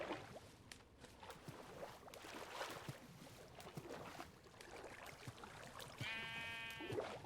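Sheep bleating in the Minecraft video game, one clear bleat near the end over a busy background of game sounds and clicks.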